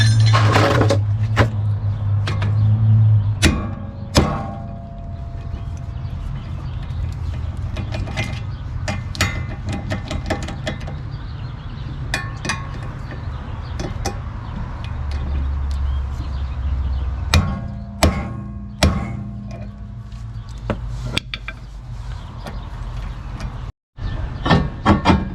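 Sharp metallic strikes ring out at irregular intervals as an impact screwdriver is hammered against stubborn screws on a Honda brake rotor, with quieter clinks and shuffling between blows.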